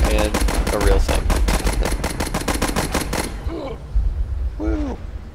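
Rapid, sustained machine gun bursts in the WWI strategy game Warfare 1917, a dense rattling stream for about three seconds that then stops, followed by brief voice-like sounds.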